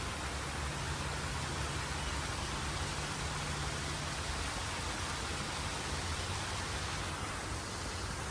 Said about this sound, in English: we've made it to the star of Wild Basin, the waterfall that we have here. It is full and active thanks to the recent rains